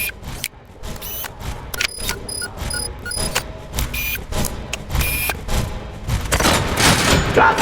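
Repeated gunfire in the Robocop Rogue City video game, a string of sharp shots that keeps going through the clip and builds to a dense burst near the end, loud and close.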